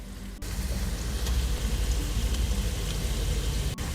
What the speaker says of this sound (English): Saute your onions first and then add the garlic the very end.